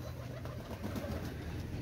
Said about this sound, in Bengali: এক জোড়া 35 কবুতর, নিউ অ্যাডাল কবুতর